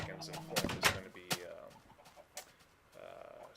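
Chickens cluck in the video game Minecraft, a few short sharp clucks and pops early on, followed by quieter game sounds and faint background noise.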